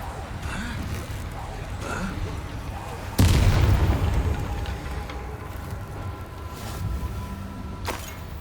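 A Bombarda spell explosion from the PC game Hogwarts Legacy bursts out as one sudden loud boom about a third of the way in, then rumbles and fades under steady game ambience.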